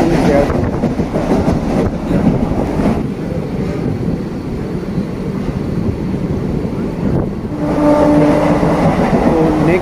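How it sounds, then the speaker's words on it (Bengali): A Sealdah to Barddhaman local train running at speed, heard from inside the carriage as a loud continuous rumble and rattle of wheels on track, with swells of clatter and no clear talk. "ট্রেনের স্পিড নিয়ে নিয়েছে।"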